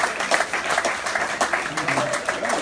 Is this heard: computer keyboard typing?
no